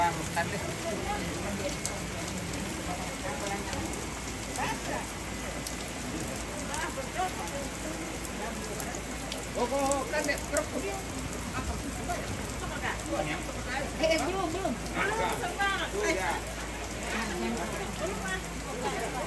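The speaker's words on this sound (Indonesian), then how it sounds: "Hujan terus ini guys." Steady rain pattering on a surface, a constant dense hiss with scattered drops, alongside faint background voices.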